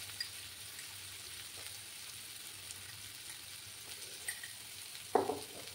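Spice paste with four slit green chillies fries softly in a pan for katla fish curry, a faint steady sizzle with occasional small pops and one louder stir near the end.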